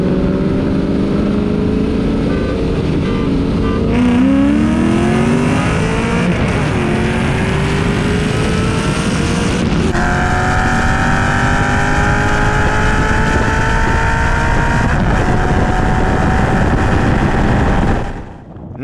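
Modified Chevrolet C5 Corvette fitted with a cold air intake and aftermarket exhaust, loud engine climbing steadily through gears with rising tones and brief shift breaks, sustained hard acceleration for nearly twenty seconds.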